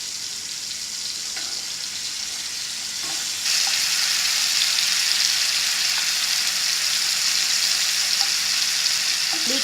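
Finely cut taco meat sizzles and fries steadily in a hot pan, a loud continuous crackle that swells partway through, with no talking.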